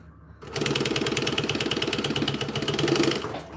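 A sewing machine stitches down a boxy pouch, its rapid, even mechanical chatter starting abruptly, running close and loud for about three seconds, then stopping.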